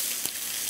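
Bavette steak sizzles on an Argentine grill, a steady bright hiss with one short pop partway through, close and fairly loud with no talking.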